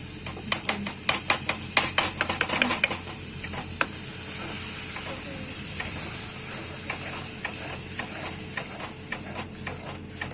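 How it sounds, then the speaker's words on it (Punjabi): Tomato and green chili gravy goes into a hot pan of oil for a ridge gourd curry, with a run of sharp clinks and scraping followed by a steady, close frying hiss. "ਟਮਾਟਰ ਤੇ ਦੋਨੋਂ ਦੀ ਗ੍ਰੇਵੀ ਜੀ ਬਣਾ ਕੇ ਵਿੱਚ ਪਾ ਦੇਣੀ ਆ"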